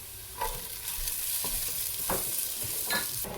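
Chopped beans and vegetables stir-fry in a hot pan for cauliflower fried rice: a loud continuous sizzle broken by several sharp spatula scrapes, close and without speech.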